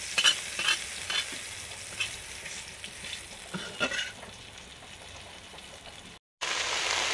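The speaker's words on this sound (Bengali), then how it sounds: "ঢ্যাঁড়স ভাজা হচ্ছে" Okra frying in a pan, a bright crackling sizzle with scattered stirring scrapes that fades toward the end, then a brief dropout before the frying noise returns, no talk.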